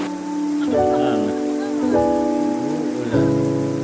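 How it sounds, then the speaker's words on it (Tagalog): Rain falls at a nature campsite above a sea of clouds in Tanay, Rizal, a steady, fairly loud hiss with sustained voices or tones over it. "Ulan."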